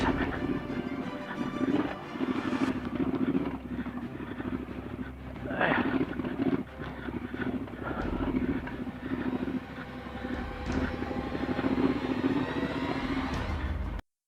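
Triumph Scrambler 1200 XC motorcycle ridden off-road: a steady, close engine rumble with throttle swells and heavy wind buffeting on the microphone, and a rider talking over it.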